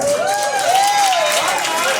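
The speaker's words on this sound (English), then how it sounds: "Round of applause, please" A crowd at a Democratic club political event in an election year claps and cheers for a state senator, steady dense applause with whoops, loud and near, a voice sliding over it.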